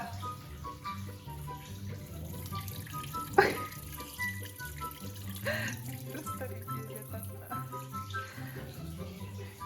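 A tap runs steadily throughout, mixed with tonal background sounds and a brief clatter partway through.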